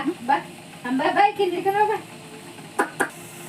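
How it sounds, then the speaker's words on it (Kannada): Gulab jamun frying in hot oil, a soft bubbling sizzle running under intermittent talk, with a couple of short sharp clinks near the end. "ಈಗ ಎಣ್ಣೆ ಕದಕ್ಕೆ ಕರ್ಯಾಕ ಹಾಕಕತ್ತೀವ್ರಿ"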